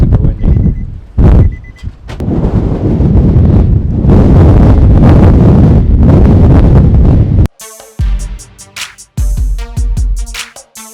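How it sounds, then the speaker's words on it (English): Heavy wind on an Iowa farm buffets the microphone in loud, roaring gusts, then cuts off abruptly into quieter, choppier rumbling bursts. "Wow, it is super windy."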